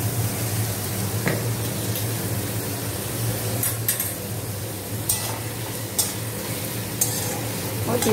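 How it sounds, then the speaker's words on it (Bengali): Onions frying in a pan, a steady hiss and sizzle with occasional scrapes and clinks of a utensil stirring them, no talking. "পেঁয়াজটাকে ভালো করে ভাজবো।"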